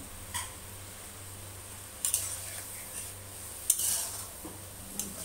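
Spices with a pinch of Kashmiri chili powder are stirred in a pan for potol posto (pointed gourd in poppy seed paste): a few sparse, faint spoon clinks and scrapes against metal over a quiet background.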